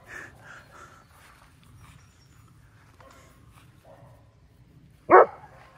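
One sharp, loud dog bark rings out near the end on a lawn during a morning outing, after a long stretch of faint, quiet background sounds.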